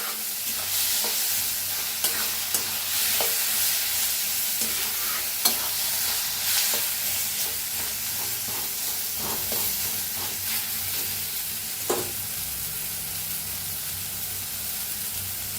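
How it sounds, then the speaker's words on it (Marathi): Steady sizzling and frying in a pan while roasting ingredients for baingan bharta (smoky mashed eggplant), with occasional scraping stir strokes over a constant close hiss. "छान भाजून घ्यायचं, म्हणजे का नाही चव खूप छान लागते"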